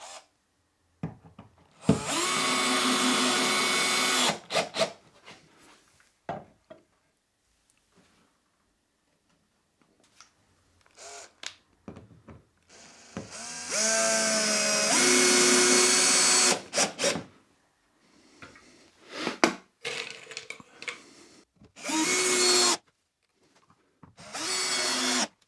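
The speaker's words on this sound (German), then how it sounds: "Machen wir oben erstmal eine Schraube. rein." A power drill drives screws into scrap wood while a clamp holder is being built: several loud whirring bursts of a few seconds each, separated by quiet pauses and small clicks.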